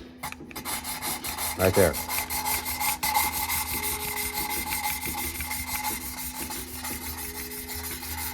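Powerstroke cylinder head valves are lapped with lapping compound, making a close, continuous gritty rubbing and grinding that runs steadily throughout, with a brief spoken remark near the start.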